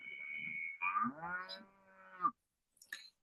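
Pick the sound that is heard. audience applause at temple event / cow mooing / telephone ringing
cow mooing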